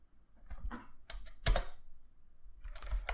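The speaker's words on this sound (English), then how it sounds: "And then I just type wget." Keystrokes rattle on a computer keyboard as a command is typed into a terminal, arriving in quick uneven bursts of close, crisp clicks separated by short pauses.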